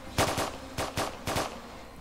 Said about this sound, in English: He's, like, shooting at some woman for no reason